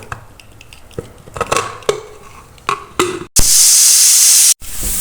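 A pressure cooker cooking chana dal lets out one loud, sustained steam whistle lasting over a second. Softer clinks of pots and utensils come before it.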